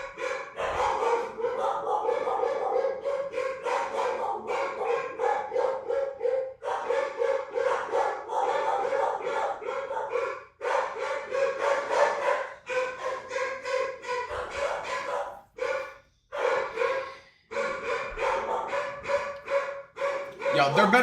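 Several dogs bark in repeated bursts for about twenty seconds, loud and close, with brief pauses and what may be voices mixed in at times.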